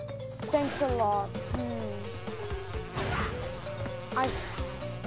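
Buzzing bee in Crash Bandicoot 2, from the N. Sane Trilogy remake, drones steadily under the game's busy music and effects for the whole stretch.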